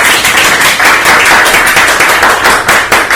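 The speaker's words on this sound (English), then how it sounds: "A round of applause." A lecture audience breaks into a round of applause, a dense, loud, steady patter of many hands clapping at once with no voices over it.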